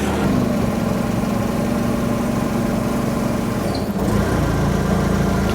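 A forklift engine idling steadily at a shop during a Jeep JK lift kit install, a continuous close mechanical drone with a brief dip near the end, no voices.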